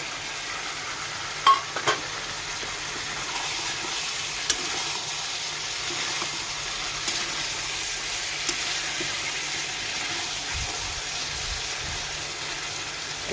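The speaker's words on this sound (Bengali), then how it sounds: "না আবার একটু ঘেটে দিচ্ছি এখানে মটরগুলি দিয়ে দিচ্ছি" Mixed vegetables with peas cook in a pan with a steady, close sizzle and hiss, broken by occasional spoon clinks and scraping as they are stirred.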